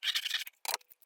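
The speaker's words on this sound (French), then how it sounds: "je vous fais voir comment je coupe mes cartonnettes" Craft knife slicing through thin cardboard for a scrapbook drawer: a near, scratchy drawn-out cut, a pause, then a second shorter stroke and a few faint ticks.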